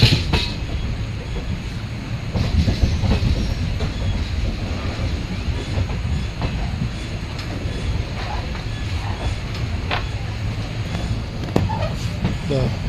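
A train rumbles through Palakkad Junction railway station in Kerala with continuous rolling wheel noise, faint clicks and occasional squeals, with voices talking beneath.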